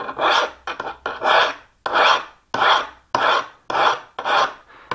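A special file rasps along the edge of a sash profile scraper in about eight even strokes. Each close, loud scrape is followed by a brief silence, and there are no voices.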